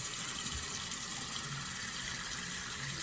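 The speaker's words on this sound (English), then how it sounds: "And now I'm going to wash it off." Water runs steadily from a tap while Shimmer Lights shampoo is rinsed off a hair closure, a continuous close hiss and splash with no talk.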